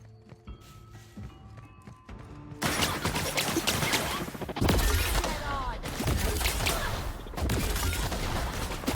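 Plasma launcher shots in The Outer Worlds: after a quiet start, a loud burst of rapid blasts and crashing impacts erupts and continues in clustered volleys.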